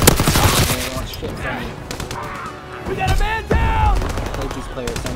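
Gunfire in a Call of Duty battle, with dense bursts of automatic fire and scattered shots layered over explosions and battlefield noise, loud and continuous, with shouted in-game voices mixed through.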